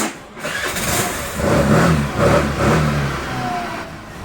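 A Suzuki Access 125 scooter in neat condition starts up close by, then runs with a steady mid-pitched engine note and slight rises in revs.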